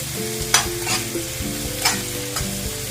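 Capsicum and tomato frying in a pan on a tawa, a steady close sizzle with stirring scrapes and a few sharp clacks of a utensil against the pan.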